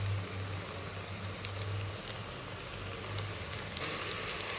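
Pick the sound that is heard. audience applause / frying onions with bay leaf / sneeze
frying onions with bay leaf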